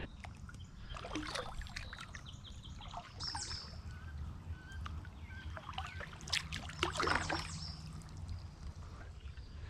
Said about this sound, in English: Now the tough part is we're gonna try and paddle back up that creek.